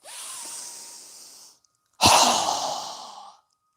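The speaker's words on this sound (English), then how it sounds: "Strong exhale." Two strong, forceful breaths in a yoga breathing exercise: a long airy exhale, a short pause, then a sharper, louder forced exhale, both close to the microphone.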